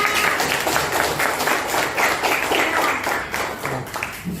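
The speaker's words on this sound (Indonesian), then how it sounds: "Yuk kita tepuk tangan untuk kita semuanya." A school class applauds together, children clapping in a lively, slightly rhythmic burst that stays loud and close throughout, thinning a little toward the end.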